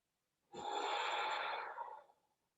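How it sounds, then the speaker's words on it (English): A single slow, deep exhale during yoga practice, breathy and close, rising quickly and fading after about a second and a half. "Breathing fully."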